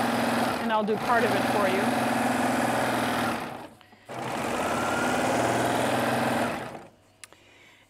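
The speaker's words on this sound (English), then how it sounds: "as I serge this, just trimming off a hair of the fabric" Serger sewing machine trimming a sliver off a fabric edge at a very short stitch length, a steady close mechanical whir running in two long bursts with a short pause between, with a person talking over the start.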